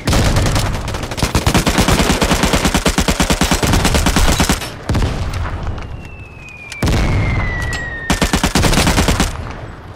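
Rapid automatic gunfire and booming shots from the multiplayer shooter game Vigor, loud, dense bursts in continuous volleys with brief pauses between strings of fire.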